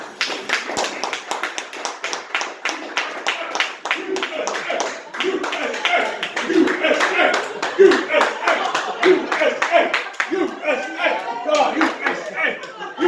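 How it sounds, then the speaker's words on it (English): A small group claps at a house party, close and loud, a dense rapid patter of hands lasting several seconds, with voices and cheers mixed in. "So let's give a nice round of applause for the President of the United States, Mr. MJ Trump."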